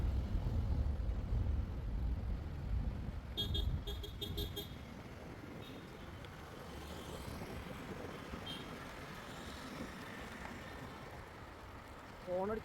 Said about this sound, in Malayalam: ഹോണടിച്ച് പേടിപ്പിക്കാം.